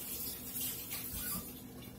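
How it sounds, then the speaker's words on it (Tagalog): Pot of vegetables with salt boiling on a stove for moringa soup, giving a steady close bubbling hiss with small simmering pops throughout and no talk. "Kumukulo na ang gulay."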